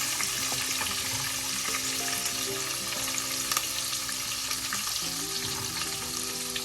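Chopped green chilli, onion and ginger stirred in a hot pan for rava upma, a loud continuous sizzle with steady scraping of the spoon throughout, no voices.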